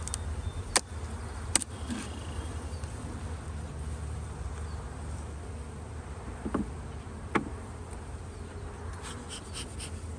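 Honey bees hum steadily in an open hive box of drawn comb, a dense continuous buzz close by, broken by a few short sharp clicks and knocks as the frames are handled.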